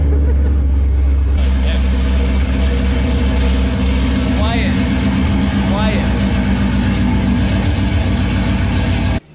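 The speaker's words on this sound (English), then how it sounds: "now we're gonna go take it out for a spin" A Gen5 Chevrolet Camaro SS pulls away, its engine rumbling loud and close under brief talk, with a few short squeaky tones rising over the steady low drone.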